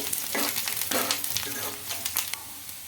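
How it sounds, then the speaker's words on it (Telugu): Curry leaves and onions fry in hot oil, giving a close, continuous sizzle with crackling bursts and stirring scrapes. "అలాగే కొంచెం కరివేపాకు బాగా ఫ్రై కావాలండి"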